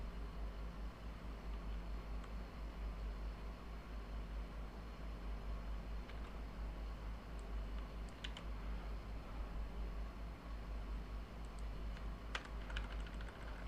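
Steady typing on a computer keyboard, faint and continuous key clicks with a few sharper taps, over a constant low hum.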